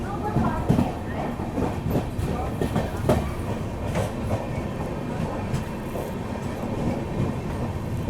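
The Mumbai–Howrah Duronto Express runs after leaving Akola Junction, a steady rolling rumble with rhythmic wheel clatter heard from inside the coach, continuous and moderately loud.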